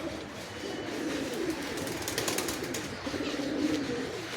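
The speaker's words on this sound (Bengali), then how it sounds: "পায়রা দেখতে পাচ্ছেন, দুর্দান্ত পায়রা।" Giribaz pigeons in a loft coo in soft, low rolling phrases, repeated a few times over a steady background hiss, fairly close.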